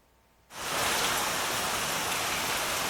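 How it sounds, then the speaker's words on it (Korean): Steady rain suddenly begins, a dense hiss of falling drops that swells within a moment and then holds constant and fairly loud, alone without voices. "비가 오는 소리가 들리고 있습니다."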